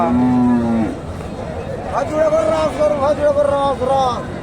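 Cattle at a cow market in Bogura moo loudly and up close, one long low call followed by a second drawn-out moo, over a background murmur of crowd noise.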